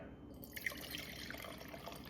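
Liquid being poured into a Tim Hortons Timbits bucket, a faint steady trickle with scattered small drips and splashes that continue through the whole stretch.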